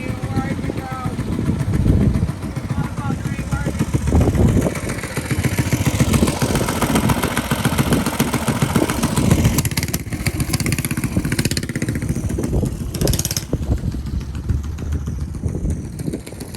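A mini bike motorcycle engine idles steadily at an outdoor ride-out gathering, a continuous near rumble with some clatter, under people talking nearby throughout.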